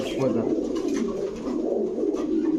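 Long-distance pigeons cooing steadily in a low, continuous murmur, several birds close by at a pigeon shop with a busy, droning quality throughout.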